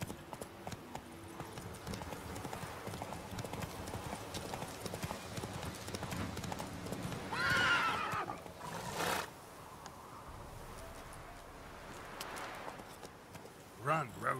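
Roach the horse gallops in The Witcher 3, with steady clip-clop hoofbeats and a whinny around the middle, set against game music and ambience throughout.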